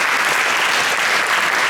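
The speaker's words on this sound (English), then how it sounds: "A big applause to Sri Akshay." Audience at a concert in a Murugan temple gives a short, dense burst of steady applause, loud and close, with no talking.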